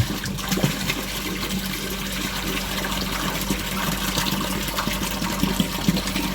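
Water rises and flows in a koi pond as a continuous, moderate wash of trickling, splashing liquid with no talk over it.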